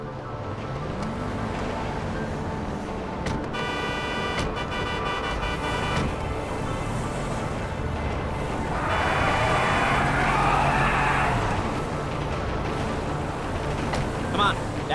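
A truck engine rumbles steadily while driving in Grand Theft Auto V, its pitch rising and falling with acceleration, a horn-like tone briefly sounding, as people talk throughout.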